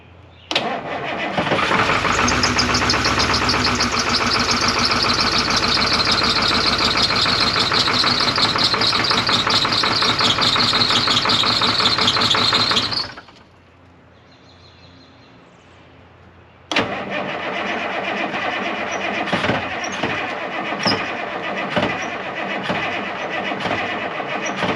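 A 1981 International Harvester snow plow engine cranks and catches, then roars loudly and steadily for about twelve seconds before cutting out. After a few seconds of near silence it fires up again and runs on, rough and close.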